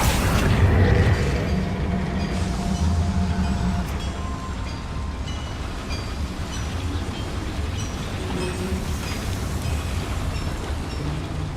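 A boiler explodes in the Hogwarts Legacy video game, blasted by the Bombarda spell inside a mine. There is a heavy low boom at the start, then a long rumbling, mechanical roar that slowly fades.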